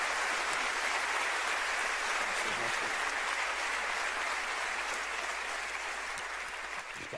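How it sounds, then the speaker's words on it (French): A comedy show audience claps continuously, a dense, loud, even wash of applause filling the whole stretch and easing off slightly at the end. "on peut l'applaudir"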